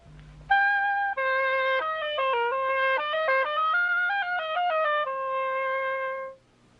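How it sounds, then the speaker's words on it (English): A solo oboe plays a short melodic phrase, reedy and clear, notes moving up and down before settling on a held tone. "It's the oboe."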